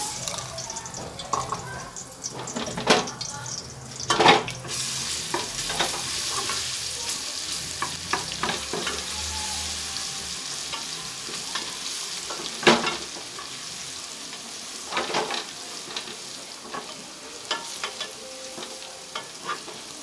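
Garlic sizzles in hot oil for moong dal while a utensil stirs and scrapes the pan in irregular bursts, the frying close and continuous throughout.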